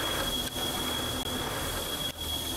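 A train from the video game Stay Close, the one a character boards, rumbles at a steady moderate level with a high squealing whine and a few brief dips, with no talking.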